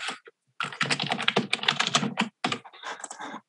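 Fast, steady typing on a computer keyboard during live coding of a video game: dense, close clatter of keys with a short pause near the start and another near the end, no talking.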